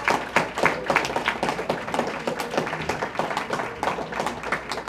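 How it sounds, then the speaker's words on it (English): An audience at a student science and leadership awards ceremony applauds with dense, steady clapping that fills the room at a moderate level, without talk over it. "we really ought to give it up and give these kids a round of applause"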